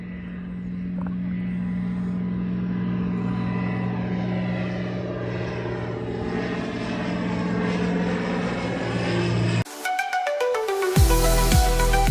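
A light propeller aircraft at Eshott airfield before departure: a steady, droning engine hum with a buzzing tone for several seconds, then an abrupt cut to a different, brighter sound near the end.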